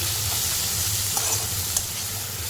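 Chopped onions and green chillies sautéing in a pan, a steady close sizzle with a couple of sharp spatula clinks as they are stirred.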